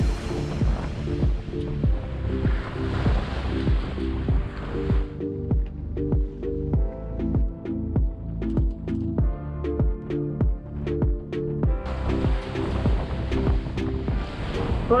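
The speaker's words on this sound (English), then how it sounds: "Sea's very lumpy today." Rough, lumpy sea slaps and washes against a sailboat beating upwind, a continuous loud surge of water and wind noise with rhythmic thumps of the hull through choppy waves, no voices.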